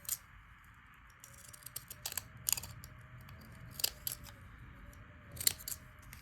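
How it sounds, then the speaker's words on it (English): Ripple scissors snip through paper in a series of crisp, close cuts, spaced irregularly with quiet pauses between. "I'm going to take my ripple scissors and cut it a little smaller"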